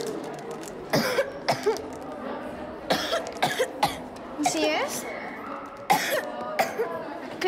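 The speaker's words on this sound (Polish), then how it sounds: "Teraz stara się tłumić kaszel." A child coughs repeatedly in sharp bursts, interspersed with voices talking nearby.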